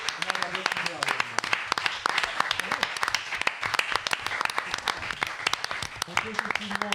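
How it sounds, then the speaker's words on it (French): A game-show audience claps and applauds, a dense, steady patter of many hands sustained throughout at fairly close range, with some voices mixed in. "On peut effectivement l'applaudir vraiment très très fort"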